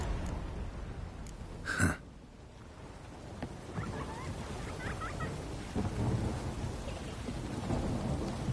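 In The Witcher 3, a thunderstorm downpour hisses steadily, broken by one sharp thunder crack near the start, then low rolling rumble beneath continuous rain, with no talking.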